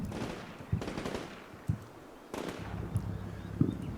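A Cobra helicopter strikes infantry in a realistic US Marine simulator game: scattered gunfire bursts and sharp impacts, a few distinct cracks over a rumbling background, moderately distant.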